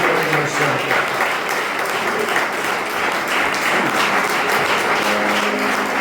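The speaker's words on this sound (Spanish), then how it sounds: "Con un fuerte aplauso para la bienvenida aquí entre nosotros" A church congregation claps in welcome for a visitor during a Sunday service, a brief dense burst of applause with scattered voices mixed in.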